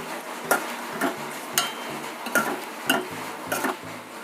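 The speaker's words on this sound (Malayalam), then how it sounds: "നന്നാക്കി ഒന്ന് ഇളക്കി ഫ്രൈ ആക്കി എടുക്കാം നമുക്കിനി." Spicy chilli pork fry being stirred in a pan with curry leaves and mint, a spoon scraping and clacking against the metal in a steady rhythm of about two strokes per second, close and fairly loud.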